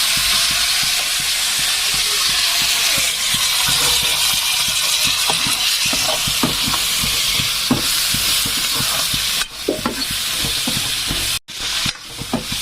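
Cabbage and eggplant curry with tomatoes fries in a pan with a continuous loud sizzle, broken by scattered stirring clinks and scrapes. There is no talking, and a few abrupt scrapes come near the end.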